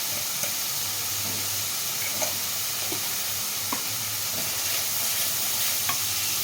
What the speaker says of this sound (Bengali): মশলাগুলো একসঙ্গে কষে নেব